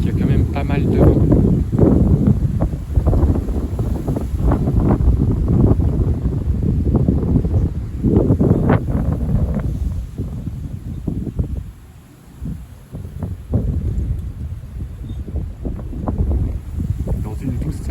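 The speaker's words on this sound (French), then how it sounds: "il y a quand même pas mal de vent." Loud, gusting wind roars and buffets the microphone almost without pause, dropping briefly before surging back.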